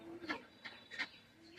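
Madrasi high-flyer pigeons from a Khulna loft coo softly, three short throaty pulses close together, faint and alone with no voices.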